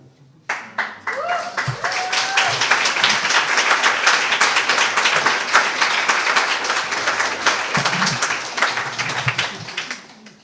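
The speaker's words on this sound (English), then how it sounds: "Once you have clapped for a poem" An audience claps warmly after a poetry reading. The applause rises quickly, holds steady for several seconds and fades at the end, with a voice speaking over it near the close.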